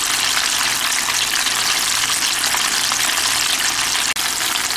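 Squirrel meat deep frying in hot oil makes a loud, dense, steady crackling sizzle that fills the whole stretch without pause, with no voices.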